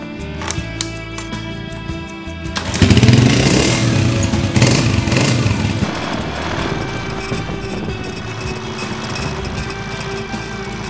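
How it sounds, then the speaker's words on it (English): A motorcycle engine starts up and revs loudly, then runs steadily as the bike rides off through the streets of Merida, Yucatan, heading toward Paseo de Montejo, with the engine noise sustained close by. "let's get the engine going and let's head out to Paseo Montejo"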